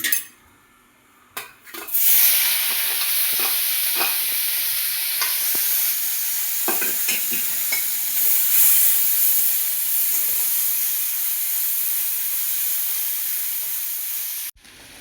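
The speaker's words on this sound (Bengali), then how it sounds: "পেঁয়াজ ভাজা হয়ে গেছে" Loud, steady sizzling of chopped onions frying in a pan with cinnamon, cardamom and bay leaf, with occasional scraping stirs and clinks of a utensil against the pan.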